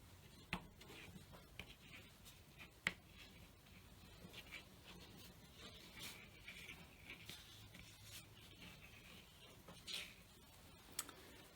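Wax candle drawn across paper, giving faint scratchy rubbing strokes with occasional light taps in a quiet room.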